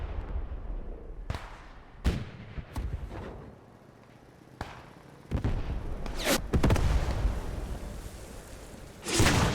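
A 20 mm gun fires from a mountain in a Battle of Iwo Jima video game, sharp booming reports landing at irregular intervals, some near and punchy, others softer amid rumbling battle noise.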